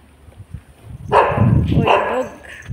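A dog lets out a sharp, close bark followed by a second bark, then a brief yip near the end, after a quiet stretch of low background noise.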